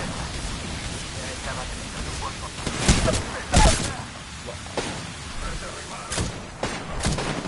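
Gunfire in the video game Apex Legends, several loud bursts and single shots breaking through a steady noisy background, with louder cracks around the middle and more scattered shots toward the end.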